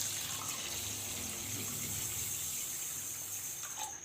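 Water poured into a pot with sugar to make syrup for khoya gulab jamun: a steady, moderately loud gushing stream running throughout, with no talk.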